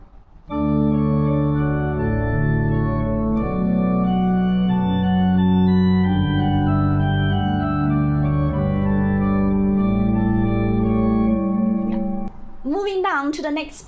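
Pachelbel's Canon in D played on an organ, sustained chords moving under a slow melodic line for about twelve seconds, full and close, ending with a brief sweeping tone.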